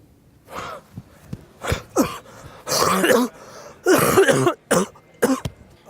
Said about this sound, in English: That cough of yours sounds like it's getting worse.